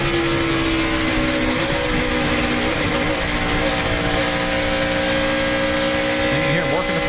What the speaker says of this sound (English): And you hear him working the throttle